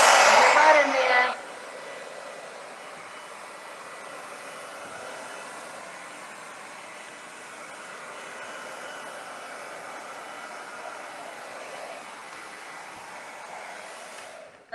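A hair dryer with a diffuser attachment gives a steady, even whoosh of blown air, louder and harsher for the first second before settling into a quieter continuous hum that runs to the end.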